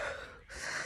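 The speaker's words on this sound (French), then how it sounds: "Je n'arrête pas de bâiller." A person yawns beside the water: a faint, close, breathy inhale, a short pause, then a soft drawn-out exhale, with no talking.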